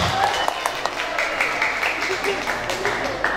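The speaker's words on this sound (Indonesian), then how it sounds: "Boleh dong tepuk tangannya untuk kru yang udah bantuin" Audience at a school karawitan competency exam clapping for the crew, scattered claps blended with crowd noise and an announcer's voice talking over them.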